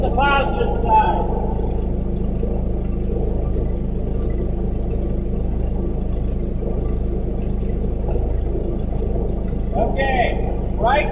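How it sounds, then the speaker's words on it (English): A Paccar MX common-rail diesel engine idles with a rough, uneven rumble and slight hesitation during an injector resistance test, a steady low drone throughout, with a person speaking briefly near the start and end. "I can hear a hesitation in the engine and a roughness."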